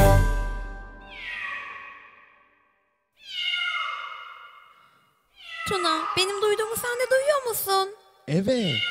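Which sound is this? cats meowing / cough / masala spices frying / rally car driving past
cats meowing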